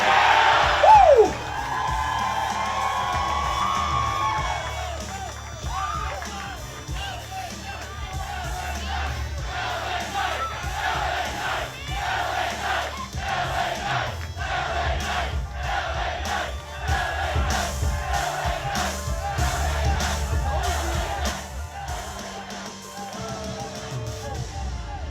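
A crowd at a public ceremony in Hagerstown, Maryland, honoring a pro wrestler cheers, whoops and shouts in a loud, sustained roar with rhythmic bursts, and an announcer's voice is briefly heard near the start.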